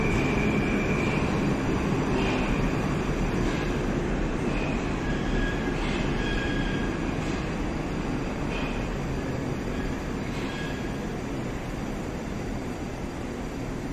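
A seven-car Moscow metro train runs on the Big Circle Line, with a loud continuous rumble of wheels and motors. A faint rhythmic clatter recurs over the roar throughout, with no voices.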